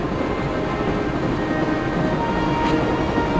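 Train from Broken Sword: Shadow of the Templars, a steady loud rumble and rattle of rolling rail cars with a constant low drone and no pauses.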